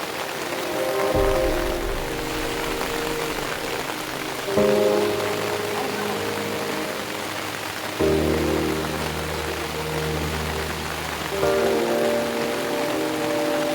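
Light rain falls beside a river as a steady, even hiss, with a low droning hum rising and falling underneath.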